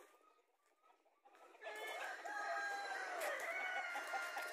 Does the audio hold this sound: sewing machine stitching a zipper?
no